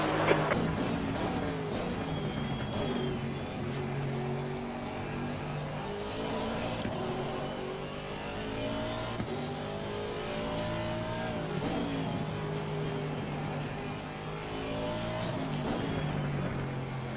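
GT3 race cars in an Assetto Corsa Competizione online league race, engines droning and revving steadily through gear changes for the whole stretch, with a Ferrari among the pack and occasional tyre noise, no voices.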